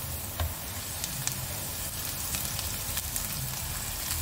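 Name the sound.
spinach sizzling in a pan with sautéed onion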